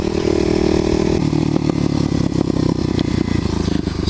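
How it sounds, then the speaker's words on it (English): Kawasaki KLX250SF dual-sport motorcycle rides along a paved country road, its loud single-cylinder engine droning close and steady, with the pitch dropping slightly partway through. "Appreciate my loud motorcycle."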